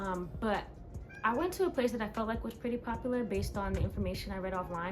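Indoors, a house cat mews repeatedly behind a woman's continuous speech, its calls partly buried under her talking.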